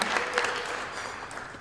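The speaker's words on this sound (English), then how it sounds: "Yes, we're clapping again and again and again" Brief burst of steady applause from an audience at a 30th anniversary celebration, moderately distant and even throughout.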